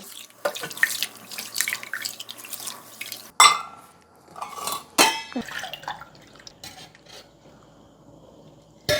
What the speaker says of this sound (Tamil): இப்போ இந்த அரிசியை வந்து நம்ம தண்ணி ஊற்றி கழுவுறேன்